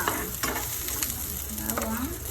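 Chopped garlic sizzles and crackles steadily in hot oil in a pan, a close, continuous frying hiss with faint stirring, no voices.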